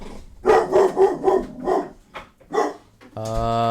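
A dog barks indoors at someone in a hallway, giving a quick run of sharp, loud, close barks, then a short pause and one more bark, followed by a steady electronic tone.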